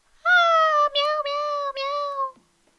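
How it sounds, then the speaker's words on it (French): A kitten in The Sims 4 video game lets out one drawn-out meow made of several close, tonal pulses, loud and clear against silence. "Et un petit chat!"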